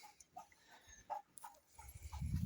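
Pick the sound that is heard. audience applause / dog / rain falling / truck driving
dog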